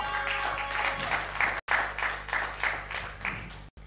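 A crowd claps steadily for a few seconds, broad and continuous, with a couple of abrupt dropouts.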